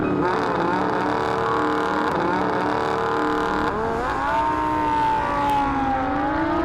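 A Lamborghini Huracan LP 580-2 laps the Losail circuit in Doha, its engine roaring loud and steady in the cabin, with pitch sliding down and climbing again as it shifts and pulls through corners.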